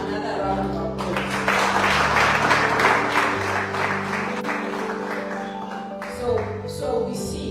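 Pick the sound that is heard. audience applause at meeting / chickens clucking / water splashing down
audience applause at meeting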